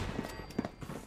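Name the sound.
gunfire shooting a turret in Fallout 4 video game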